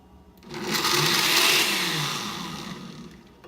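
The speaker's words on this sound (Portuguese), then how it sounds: "vamos bater mais um pouquinho. Até virar um creme agora" An electric blender whirring cooked chickpeas with liquid into a smooth cream, the motor ramping up to a loud steady roar and then easing off toward the end, close and continuous with no talk.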